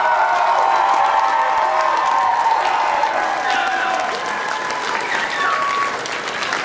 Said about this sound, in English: you should give like a huge cheer just for everybody in the room